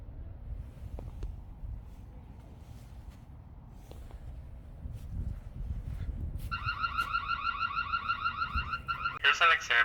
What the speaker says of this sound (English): the alarm also kicks in very quickly as well